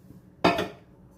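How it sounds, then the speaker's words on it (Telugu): A metal kadai is set down on a stove with one short, bright clank that rings briefly and fades within half a second, alone in a quiet kitchen. "ఇప్పుడు దీని మీద కడాయి పెట్టి జస్ట్ అవి వేగడానికి సరిపోయేంత ఆయిల్ వేసి"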